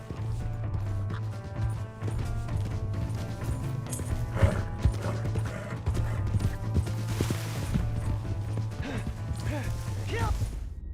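Horse hooves clop steadily beneath a low droning hum, with occasional bangs and voices talking over the scene in the video game Red Dead Redemption 2.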